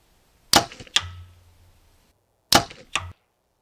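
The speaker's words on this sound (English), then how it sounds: "I need to tighten my string stopper. I think I can hear it vibrating a little bit after the shot." Two compound bow shots with fixed-pin sights, each a sharp loud release followed by a short fading buzz of the string vibrating, with a low hum after the first; no talking.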